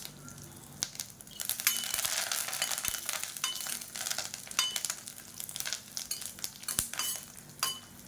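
Garlic cloves and a sprig of curry leaves sizzle in hot oil for a spicy chutney, a steady close frying hiss with crackling bursts and a few sharp clinks of a utensil against the pan.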